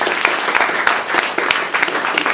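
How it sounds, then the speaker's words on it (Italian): An audience bursts into applause at a talk event, lively uneven clapping with distinct sharp claps standing out over the crowd, near and fairly loud throughout. "Ah, beh, c'è un applauso."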